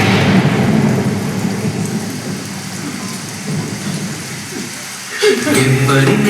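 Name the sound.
rain and thunder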